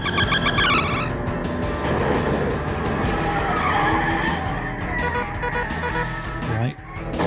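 Car braking and skidding in the Sega Mega-CD game Road Avenger, a loud sustained tyre screech over engine noise and game effects lasting several seconds, with a sharp break near the end and talk over it.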